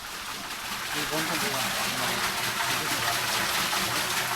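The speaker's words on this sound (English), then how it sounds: "This water, the force of water is rotating that prayer wheel." Rushing water gushes and churns steadily nearby as its force turns a prayer wheel at a temple in Punakha, Bhutan, a loud continuous flow with possible faint voices underneath.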